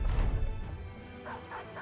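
A dog in the medieval tactics video game Battle Brothers gives a short burst of barks and yips near and fairly loud, followed by fainter game noise.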